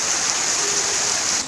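Heavy rain falling in a steady, dense hiss, loud and continuous throughout with no other sounds.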